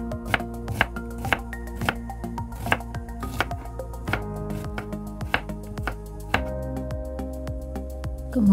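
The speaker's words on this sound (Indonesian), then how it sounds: "Di sini saya akan mengiris-ngiris bawang bombaynya lebih dulu" A knife slices through a yellow onion on a cutting board, cutting it into long strips, giving repeated sharp chopping knocks at a steady rhythm, close and fairly loud, with a faint steady hum underneath and no talking.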